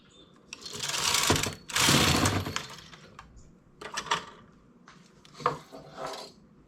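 A knitting machine carriage knits a mesh-stitch scarf, giving rough clattering sweeps and rattles in bursts, loud at first and then more broken and clicky, with no talking.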